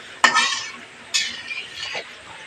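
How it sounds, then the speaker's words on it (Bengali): Vegetables and Malabar spinach are stir-fried in a pan, with three distinct spatula scrapes and stirs over a faint, steady sizzle, close and without talk. "আস্তে আস্তে এটা কষতে থাকবো, কষতে কষতে পুঁই শাকটাও দিয়ে দেবো এর সঙ্গে"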